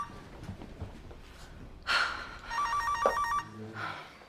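An indoor telephone rings with a clear electronic warbling trill in two bursts, following a gasp or sharp breath, with no speech.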